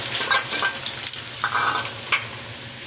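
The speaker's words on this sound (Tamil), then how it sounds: "இப்போ வந்து இதில் நான் வந்து வெங்காயத்தை போட்டுக்கிறேன்" Onion added to hot oil with spluttered mustard seeds and fenugreek sizzles and fries steadily for kuzhambu, with a spoon stirring and scraping the pan, close and continuous with no talk.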